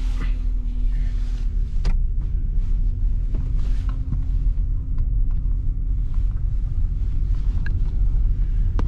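A Ford Fusion with a failed ABS speed sensor driving along, a steady low road rumble and engine drone inside the cabin with occasional small knocks and rattles.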